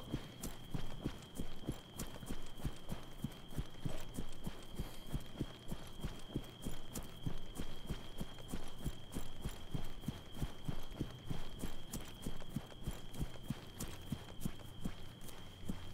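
Long continuous run by an ARMA III soldier character over terrain, rapid regular footfalls thudding close and steady throughout with a faint constant tone behind them.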